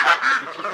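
Geese come running out of a gate on a crisp morning, giving a brief nasal honk, one short burst of overlapping calls close by.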